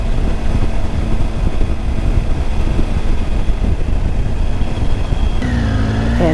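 A motorcycle cruises into Butte, Montana with a steady engine drone mixed with heavy wind buffeting, continuous and loud throughout, with a brief engine tone shift near the end.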